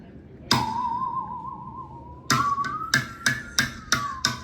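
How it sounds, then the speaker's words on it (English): A bowed musical saw sings a long wavering tone, then several sharp metallic taps from a hammer or stick on the saw follow in a quick irregular series, each ringing out briefly. "one way to make it sing is to tap it with a hammer or a stick"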